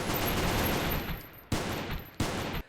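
Bursts from an L6 machine gun hitting a mech in the Goobstation space-station game: a long dense volley followed by two shorter clipped bursts, loud and close, with no talk.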